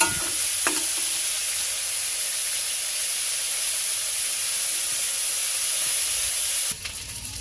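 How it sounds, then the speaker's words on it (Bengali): Potatoes frying in a pan, an even continuous hiss and sizzle close up, with a brief clatter at the start and a small change near the end. "এদিকে আমার আলুটা ভাজা হচ্ছে"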